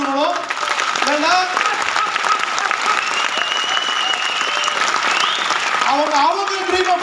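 An audience breaks into loud, sustained applause, a dense wash of clapping that holds steady throughout at close range, with a voice calling out over it near the start and again near the end.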